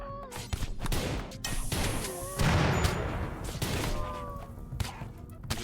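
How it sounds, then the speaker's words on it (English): Gunfire in the colony-defense video game Rimworld during a festive raid wave, rapid overlapping shots and crashes over dense game noise and music tones, steady and fairly loud. "Just using them all as meat shields while Watts shoots them to death"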